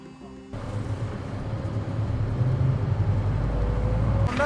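Bus ride in Turkey, a steady low engine rumble and road noise inside the moving vehicle that grows slightly louder and rougher, cut off abruptly at the end.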